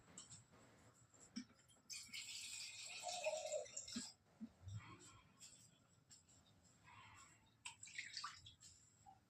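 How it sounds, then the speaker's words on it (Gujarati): Water is poured into a pan for Maggi noodles in a home kitchen, producing a short, splashy gush followed by lighter trickles and clinks, with someone talking nearby. "પાણી નાખવું પડશે"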